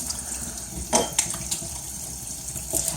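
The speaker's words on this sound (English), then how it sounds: "Just gonna wash my hands again." Tap water runs into a sink while hands are washed, a steady close splashing stream with a few louder splats and slaps, no voices.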